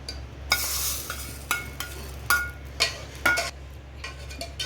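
A tempering of cumin, garlic, dried chillies, coriander, curry leaves and mustard seeds hisses in hot oil, with repeated stirring and metal scraping against the pan in bursts, close and moderately loud, no voices.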